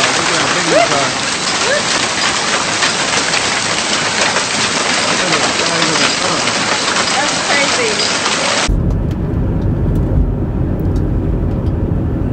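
Heavy rain mixed with hail pours down during a storm in San Jose, a loud dense steady hiss and patter that cuts off abruptly and gives way to a duller, lower rumbling rain sound.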